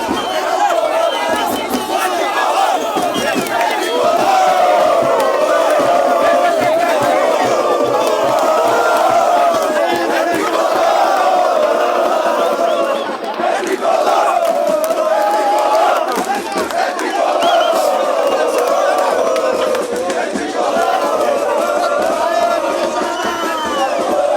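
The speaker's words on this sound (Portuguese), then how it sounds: "a torcida do Passo Fundo fazendo a festa aqui" Passo Fundo football supporters cheer and chant in a loud, continuous roar, with massed voices rising and falling steadily throughout and no break in the crowd noise.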